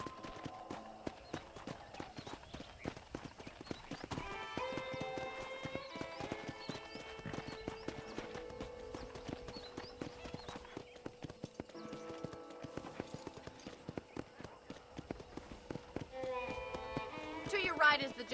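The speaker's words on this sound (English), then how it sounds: "let's see if you can still ride a horse" Horse hooves clip-clop steadily in Red Dead Redemption, moving at a walk, with an occasional whinny and background game music throughout.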